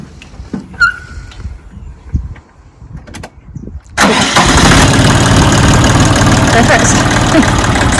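A Siromer 304 diesel tractor engine cranks and fires at about four seconds, then runs loud and steady close by after a stretch of quieter handling sounds.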